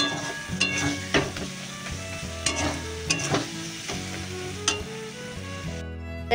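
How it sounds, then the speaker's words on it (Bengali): Masala and potatoes are stirred and sautéed in oil in a pan. Steady frying with repeated scrapes and clacks of a spatula continues throughout, under background music. "এবার ভালো করে এটাকে সুন্দর করে কষিয়ে নেব। তেল ছাড়বে একটু, তারপরে আলুটা দেবো, তারপর আবার একটু কষাবো।"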